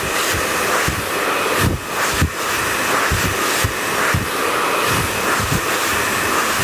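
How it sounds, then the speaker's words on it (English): A hair dryer blows with a steady roaring whoosh throughout, its airflow shifting slightly as it moves, with faint soft thumps underneath. "you don't always have time to put the dryer down, section with a comb, pick the dryer up"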